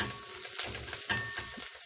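Small pieces of onion fry in a little oil in a pan and are stirred, giving a steady sizzle broken by scraping stirs, close and fairly loud, with no talking.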